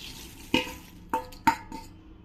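Roasted puffed rice being tossed together with fried peanuts and coconut, a dry rustling scrape with three sharp clinks of a spoon against the vessel, close and alone.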